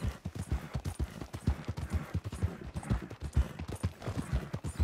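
Horse walking in Red Dead Redemption, hooves clip-clopping in a steady, even rhythm on firm ground, close and distinct, with no talking over the footfalls.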